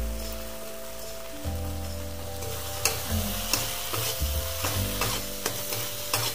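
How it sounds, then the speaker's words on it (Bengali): Spiced rui fish paste seasoned with salt sizzles and fries in a pan, with steady frying hiss and a low hum, broken by several sharp scraping clicks of stirring in the latter half. "কিছুক্ষণ কষতে দেবো।"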